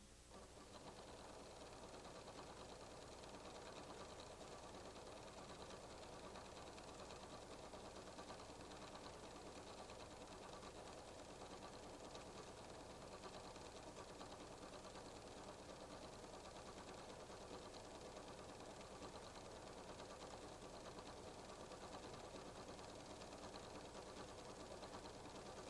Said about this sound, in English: I'll sew the cross stitches along the guide marks